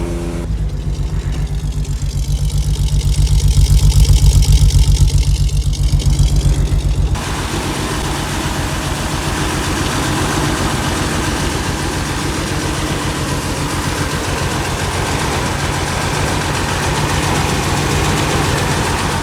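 A Ford Sierra Estate Mk1 4x4 Ghia 2.8i engine runs with the throttle held slightly open, a loud, steady rumble that swells for about seven seconds. It then settles into an even, continuous idle with a faint unevenness suggesting a slight misfire.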